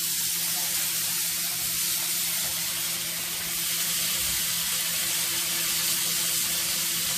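A ribeye steak sears in a hot pan, a steady broadband sizzling hiss that runs unbroken for the whole stretch at an even, close level with no talking.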